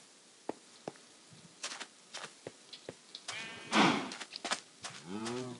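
Sheep bleating in the Minecraft video game, a couple of short wavering bleats near the end, among scattered clicks and taps of gameplay.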